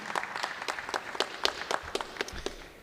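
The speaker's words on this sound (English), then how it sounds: "So give it a round of applause for them again." A graduation ceremony audience claps in a short round of applause, with distinct separate claps standing out over a softer patter, moderately loud and continuing steadily without talk.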